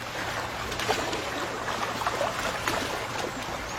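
Salt-water sea spray showers over a raft on the open ocean, a steady, close hissing wash with faint splashes scattered through it.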